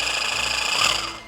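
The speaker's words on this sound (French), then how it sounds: "j'ai une scie sauteuse" A jigsaw cutting wood gives a brief, steady buzzing whine, close and fairly loud, that tapers off at the end.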